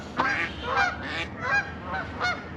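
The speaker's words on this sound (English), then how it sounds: "Oh look, the ducks are coming." Waterfowl near the Grand River in Lansing, Michigan give several nasal honks in an irregular run of four or five calls, close and fairly clear.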